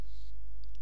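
A single computer mouse click, short and close, over a faint room hum.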